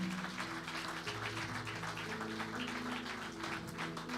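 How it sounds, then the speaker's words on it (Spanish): A church congregation applauds the Lord during a bilingual Spanish-English sermon, with steady dense clapping filling the room alongside sustained organ or keyboard tones. "Give a favor. strong round of applause to the Lord"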